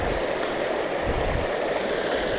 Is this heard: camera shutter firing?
no